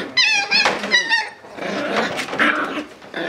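Puppies playing in the next room make high yips, whimpers and little growls among thumps and scuffling, close and lively, with no talk.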